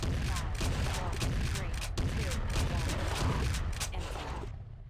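Rapid gunfire aimed at a T-Rex in the game Jurassic Park: Trespasser, a dense volley of loud, sharp shots in quick succession that cuts off abruptly at the end.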